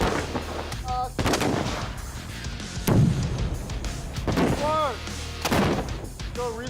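Marines on a live-fire range shoot in repeated sharp, loud gunshot cracks spaced a second or so apart, echoing across the range, with voices shouting commands between shots.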